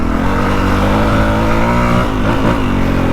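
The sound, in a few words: dirt bike motorcycle engine revving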